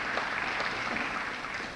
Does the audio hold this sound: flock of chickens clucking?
no